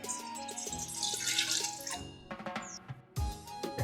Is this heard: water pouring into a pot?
yes